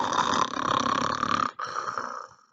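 A voice imitates a grasshopper snoring with a long raspy, rattling inhale, a brief break, then a second drawn-out snore that fades away.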